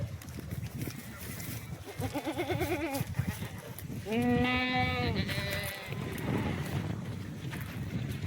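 Kathewadi goats bleat loudly in wavering, quavering calls, one after another, over a noisy livestock market background with voices and general bustle.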